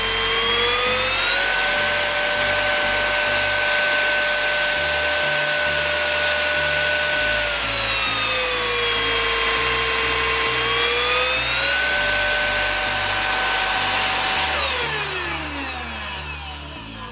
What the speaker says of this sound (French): je vais le mettre en mode boost en même temps, en mode max